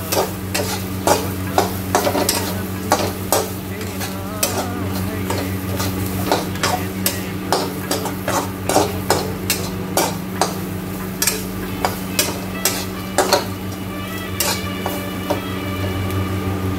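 A spoon stirs masala frying for a moringa drumstick curry in a pan, scraping and clinking in a steady repeated rhythm over a continuous close sizzle.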